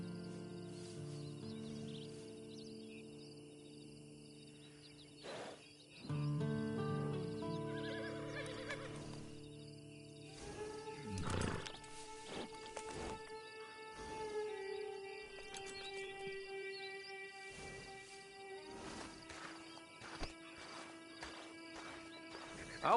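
Inside a PS4 video game, a horse neighs and whinnies in several loud bursts, with hooves clip-clopping and faint insect and bird ambience between the calls.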